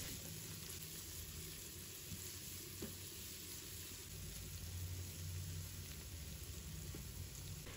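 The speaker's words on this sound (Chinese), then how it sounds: "再加入葱蒜、小米椒，快速的给它翻炒" Scallion, garlic and chili peppers hiss in a hot wok while being stir-fried, a steady dense sizzle with faint scraping of the turner, fairly quiet and with no talking.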